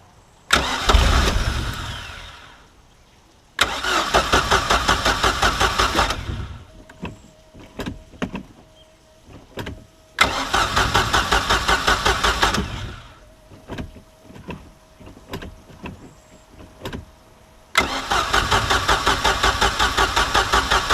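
A Mercury MerCruiser 3.0 boat engine with a newly installed carburetor and fuel pump, sitting nine years, is cold cranked in repeated bursts. The starter grinds rhythmically, with clicks and brief stumbling catches between attempts, and no clean running idle follows.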